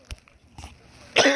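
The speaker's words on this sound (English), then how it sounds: "I'm gonna start coughing again" A person coughs several times, with short rough bursts spaced apart and a louder, harsher cough at the end, close to the microphone.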